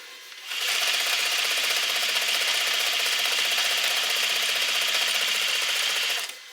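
A sewing machine stitching a bag runs in one steady, rapid mechanical chatter for about six seconds, starting and stopping cleanly, close and loud with no talking.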